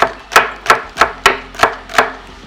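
Knife chopping fresh spring onion on a board for garnish, six crisp, evenly spaced chops at a brisk rhythm, close and fairly loud, with no talk.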